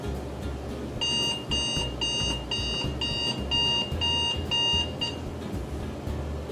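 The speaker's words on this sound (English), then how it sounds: "this is his alarm" An alarm clock rings in repeated bursts of rapid high beeps, about seven pulses in a row, over a low room hum.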